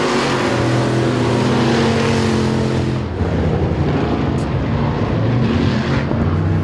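Street stock race cars roaring around Super Bee Speedway in Chatham during a 12-lap main event, loud engine drones rising and falling as cars pass close by, one pitch sweep giving way to another mid-clip.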